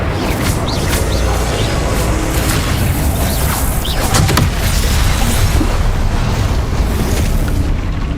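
Explosive fire spells cast in the PC game Hogwarts Legacy, a dense, continuous barrage of loud booms, blasts and crackling bursts at full intensity with no pause.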